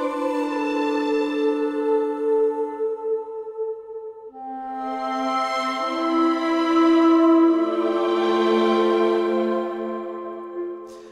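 Soft, emotional cinematic orchestral strings play together in sustained, swelling chords that shift slowly from one harmony to the next, layered from low to high and heard up close without any talk.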